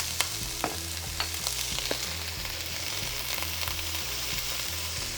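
Ginger and spices sizzle in a hot frying pan, a steady close hiss broken by small pops and the soft scrape of stirring.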